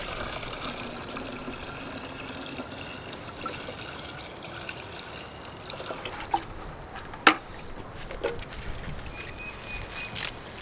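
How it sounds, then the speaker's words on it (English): Liquid soil amendment poured from a watering can over garden ground, a steady close trickle and splash running continuously, with a few sharper drips and knocks near the end. "This will be applied with a watering can so that I get these 4 gallons evenly spread over the entire area"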